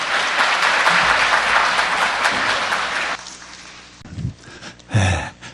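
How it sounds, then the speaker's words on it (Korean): Audience applause welcoming a lecturer to a staff integrity-education session at Seoul National University Hospital: loud, dense clapping for about three seconds that then stops abruptly, followed by a few faint thumps and rustles. "큰 박수로 맞이해 주시기 바랍니다."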